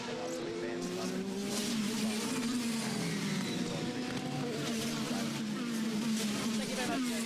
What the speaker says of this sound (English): It's hard not to enjoy these Mustangs driving around, making some beautiful sounds, sounding like America.